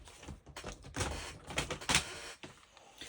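A paper trimmer slices through card stock, giving a close, continuous rasping swish of about three seconds that swells in the middle and fades at the end.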